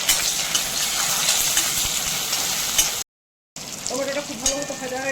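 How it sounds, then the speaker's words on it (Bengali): Grated ginger and sliced tomato frying in a spiced tempering for ghugni, a steady close sizzle with stirring scrapes, cut by a brief gap before the frying resumes. "টমেটোটা খুব ভালো মতো ভাজা হয়ে গেছে, সিদ্ধ হয়ে গেছে"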